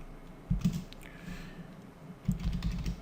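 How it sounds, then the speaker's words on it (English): Fingers type on a computer keyboard in two short bursts of soft, close clicks and thumps, separated by a quiet pause, with no talking. "just type here"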